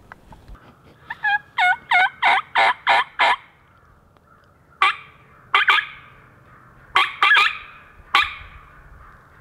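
A wild turkey hen in the Minnesota spring woods gives a run of about seven quick, evenly spaced yelps, then after a pause several more scattered yelps, clear and fairly close with little else around.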